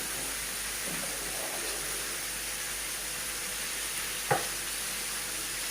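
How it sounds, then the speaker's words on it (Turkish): Steady, hissing sizzle of potatoes frying in hot oil, continuous and close, with one brief clink partway through. "İşte patates kızartıyorum."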